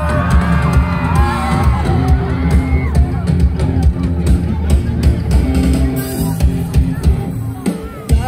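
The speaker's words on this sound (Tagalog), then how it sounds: "Sigawan ng mga kabataan." A crowd of young people shouts, whoops and cheers loudly and continuously, with a dense babble of overlapping voices throughout.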